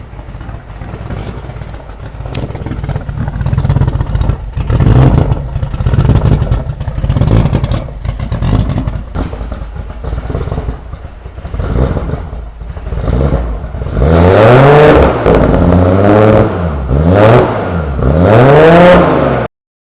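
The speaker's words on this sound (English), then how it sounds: "So this is a pretty well fresh cold start" A Nissan R32 GTR engine idles roughly after a fresh cold start, then revs up in a series of loud, rising and falling throttle blips close by.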